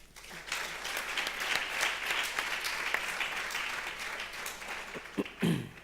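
Applause from the audience at a congress workshop on technology, a dense round of clapping that swells and holds, then thins out near the end with a louder nearby bump.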